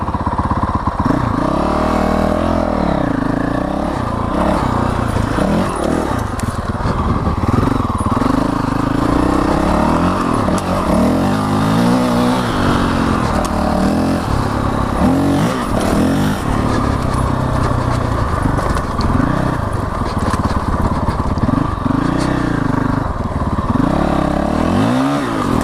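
A Honda CRF 450L dirt bike with an FMF Q4 exhaust is revved repeatedly at close range, its engine note rising and falling through loud, continuous throttle blips with no talking.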